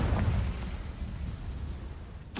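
A Confringo fire spell bursts in Hogwarts Legacy, a dense rumbling blast with heavy low-end boom that sustains across the whole moment before a sharp fresh crack at the very end.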